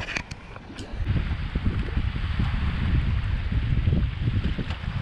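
Steady, blustery wind roars across an open microphone at the Guana Tolomato Matanzas preserve near St Augustine, Florida, with low rumbling buffeting that rises and falls but never lets up.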